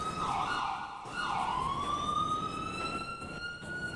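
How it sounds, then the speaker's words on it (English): Ambulance siren in the video game GTA V, a wailing electronic tone that sweeps up and down and then holds a rising note, heard at moderate distance over a background rumble, with no talking. "I don't know if that's an ambulance or the popo, but I'm guessing it's an ambulance"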